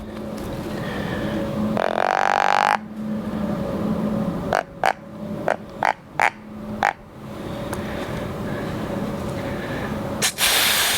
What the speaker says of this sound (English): That was a toad.